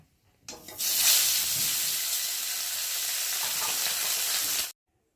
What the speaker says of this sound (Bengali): তেল আছে আর একটা মাছ রয়েছে, সেটাকে দিয়ে একটু ভালো করে ভেজে নেব